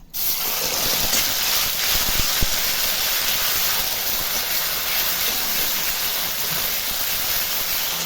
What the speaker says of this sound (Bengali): আর তেলও গরম হয়ে গেছে আমি দিয়ে দিচ্ছি সাদা জিরে আর দিয়ে দিচ্ছি দুটো শুকনো লঙ্কা ছিঁড়ে এর মধ্যে দিয়ে দিচ্ছি বেটে রাখা মশলা